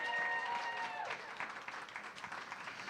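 An audience at an evening Nerd Nite talk event applauding, faint but steady clapping that continues after a fading voice at the start.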